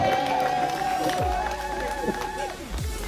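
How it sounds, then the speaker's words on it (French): Wedding guests cheer and applaud at a civil marriage ceremony, a loud crowd roar with whoops under a sustained tonal sound that holds steady through the moment. "Applaudissons très fort pour Monsieur Kofi."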